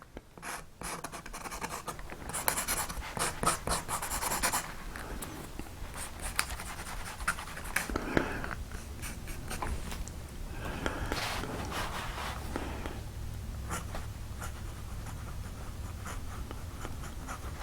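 A steel Esterbrook 2556 fountain pen nib, newly smoothed, scratches across paper in faint close strokes with soft rasping pauses between words, with no talking over it.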